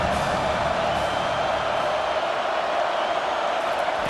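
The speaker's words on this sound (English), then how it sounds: "Decibels rising as the crowd gets behind this defense on third down." Loud, steady stadium crowd roar swelling continuously during a third-down defensive stand in College Football 25, a dense wash of cheering voices with no break.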